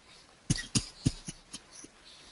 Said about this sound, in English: I've been having a coughing fit for the last 10 minutes